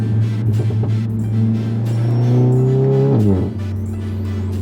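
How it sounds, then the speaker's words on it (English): An Audi S4 B9.5 engine pulls hard under heavy load, a loud, steady drone rising in pitch for about three seconds before briefly dipping as if shifting, then carrying on, up close with no talking. "So this car sounds really good when you're under heavy load."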